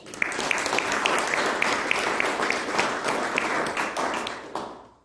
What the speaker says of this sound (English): Let's give Jack a round of applause.